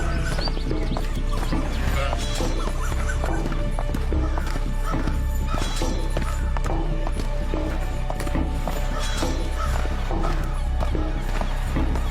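A horse gallops with steady, rapid clip-clop hoofbeats and neighs and whinnies loudly over a dense, constant background that runs for the whole stretch.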